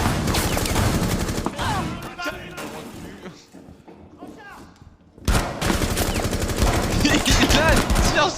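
Loud bursts of automatic gunfire from a video game shooter fill the clip, dropping into a quieter lull midway before dense rapid shooting resumes at full volume.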